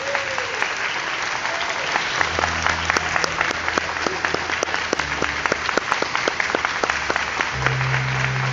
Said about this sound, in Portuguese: Eu quero que você dê um grande aplauso para aquele que foi levantado para destruir as obras do inimigo, para nosso Senhor Jesus Cristo.